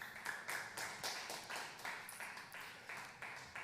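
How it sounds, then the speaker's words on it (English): Sparse clapping for a conference panel at South Summit, heard as a rhythmic run of separate, fairly faint claps roughly every quarter second, like a few people clapping close by rather than a full crowd. "like a round of applause for our panel"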